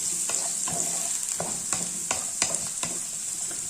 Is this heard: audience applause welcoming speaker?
no